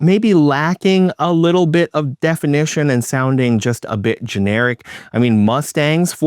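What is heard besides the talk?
None of the usual background noises is heard.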